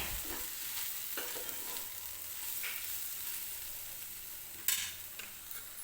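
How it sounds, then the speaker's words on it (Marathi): Ground spices roast with tomato and onion in a pan, a faint, steady sizzle with occasional soft stirring scrapes and a sharper clink near the end. "आता हे सगळे मसाले आपल्याला टोमॅटो आणि कांद्यासोबत भाजून घ्यायचे 1-2 मिनिटं."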